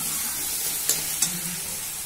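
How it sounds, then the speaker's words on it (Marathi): Red chili powder frying in hot oil for a homemade Maggi noodle upma, a steady close hiss and sizzle with two quick clinks of a stirring spoon partway through, and no talk. "आता हे तिखट आपल्याला चांगले फ्राई करायचे।"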